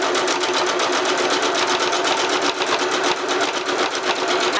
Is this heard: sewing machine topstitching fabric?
yes